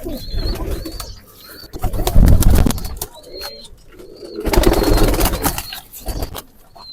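Khatang pigeons close by, with soft cooing and bursts of fluttering, flapping wings that rise and fall in two louder stretches over a shuffling background.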